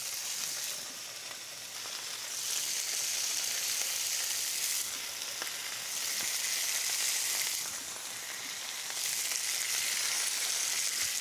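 Tuna searing in hot oil in a pan, a loud continuous sizzle and crackle that swells and eases in waves, alone without talk.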